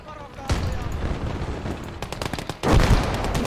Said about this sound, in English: A heavy anti-tank gun.